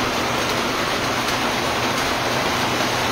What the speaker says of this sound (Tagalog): Hala, ang lakas ng ulan dyan.